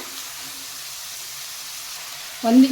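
Crushed garlic fries in a pan for a Kannada tomato-rice lunch-box dish with a soft, even sizzling hiss. Near the end a short, brighter tonal sound cuts in.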